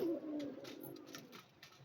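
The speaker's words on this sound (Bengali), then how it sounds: "এই যে আমি পায়রা খাবার দিচ্ছি এখন" Racing pigeons cooing at close range while being given feed, a soft low warble lasting under two seconds with faint scattered sounds behind.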